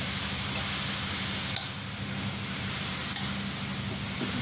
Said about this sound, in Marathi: मस्तपैकी परतून घ्यायचं आहे आपल्याला तुपामध्ये.